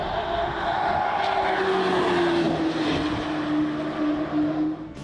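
A Corvette prototype's engine drones past at speed on the Nordschleife, a steady loud roar with a sliding pitch as it holds revs, fairly close and without talk.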